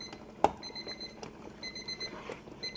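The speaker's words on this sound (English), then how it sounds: "But now my timer went off 25 minutes." A kitchen timer beeps in quick repeated high-pitched bursts during jam making on a stove, steady and fairly quiet, with faint kitchen background and no talking.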